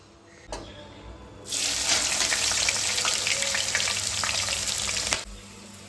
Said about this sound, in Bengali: পেঁয়াজটা এবার আমি ভেজে নেবো একদম লাল লাল করে